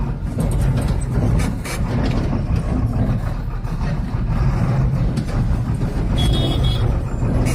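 A heavy HMV tipper truck idles at a city traffic signal at night, its engine rumbling low and steady up close with continuous broad road noise from surrounding traffic and no talk.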